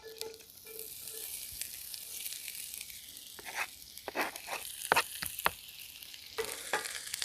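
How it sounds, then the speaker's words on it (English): Sliced onions for Swiss onion soup sauté in a pan, giving a faint, steady sizzle with crisp scraping and stirring scratches from a utensil clustered through the middle and end. "We're going to saute these onions down until they're golden brown"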